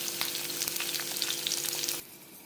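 Eggplant pieces for a spiced curry sizzle and fry steadily in a pan, a dense crackling hiss throughout that drops to a quieter, softer simmer near the end; no one speaks.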